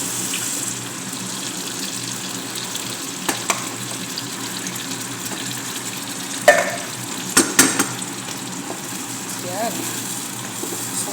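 A spoon stirs yogurt and coconut cream in a pot over a low bubbling simmer, with a few sharp clinks against the pot and someone speaking briefly in between.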